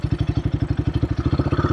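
A Royal Enfield Himalayan 452 motorcycle fitted with an AEW performance exhaust pipe gives a steady, loud, close thumping exhaust pulse at a fast even rhythm, with no talk over it.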